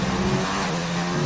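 A Renault Formula 1 car on soft tyres in F1 2019, heard on board at the Germany circuit: a steady, loud, high-pitched engine drone holding a constant note with no talk over it.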